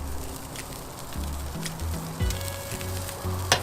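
Steady soft sizzling of steak frying in a pan, a constant close crackle with small pops and faint background hum, with no talk.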